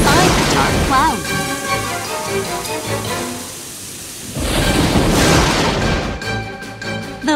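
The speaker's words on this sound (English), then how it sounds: "All of a sudden, dark clouds moved in. There was lightning inside the dark clouds." Cartoon thunder rumbles loudly from dark storm clouds in a children's animation, a long booming roll that fades briefly then surges again, mixed with rain-like hiss and music.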